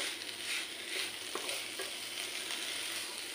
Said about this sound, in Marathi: साखर व्यवस्थित वितळेपर्यंत आपल्याला मिक्स करत राहायचं आहे।